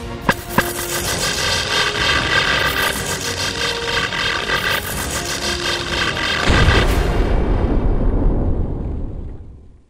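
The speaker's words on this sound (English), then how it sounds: "I want that station destroyed." A space station blows apart in the video game Matt Mercury in the SpaceWays, opening with sharp bursts, then a long roaring crackle that swells into a deep rumbling blast before fading to silence.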